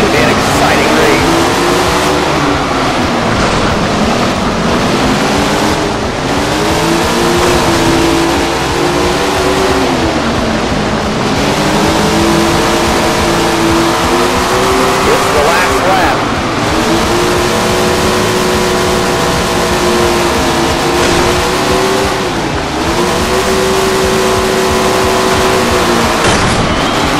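Sprint cars race at Grant Park Speedway, their engines droning loudly and continuously with rising and falling pitch as they lap. An announcer talks throughout over the engines.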